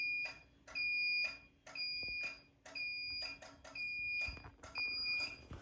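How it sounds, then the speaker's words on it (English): A carbon monoxide detector on test sounds its temporal 4 pattern: loud, close clusters of sharp high beeps, four quick pulses then a pause, repeating several times with no talk. "if it was in true alarm, it would keep doing temporal 4 until carbon monoxide levels went back to normal"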